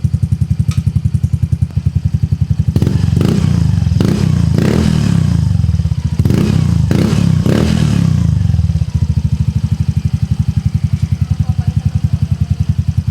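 Yamaha Fazzio scooter fitted with a CRP Power Pipe exhaust on its middle setting, a loud nearby idle with a steady pulsing beat, broken by several sharp throttle blips with clattery roar before it settles back to idling.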